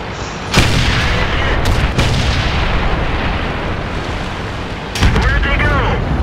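Tank cannon fire in the World of Tanks video game: sharp heavy booms at the start and near the end over a dense rumbling battle bed, with someone talking over it.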